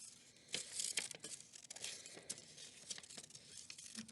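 Scissors cut through paper for a wildlife puppet craft with soft, steady snipping and crinkling, close by and quiet.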